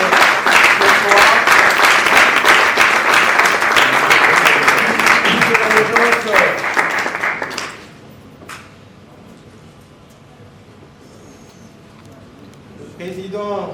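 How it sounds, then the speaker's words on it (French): An audience at the third edition of the Nzonzing Awards ceremony applauds loudly under a speaker's voice. The dense clapping holds for several seconds, then cuts off abruptly into a quiet room. "Sous nos applaudissements"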